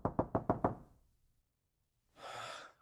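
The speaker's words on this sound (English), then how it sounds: "a harsh knock at the door startles him awake" A harsh run of five rapid, loud knocks on a door, then a pause and a longer breathy burst like a startled gasp, generated for an AI-made scene of a man woken in his room.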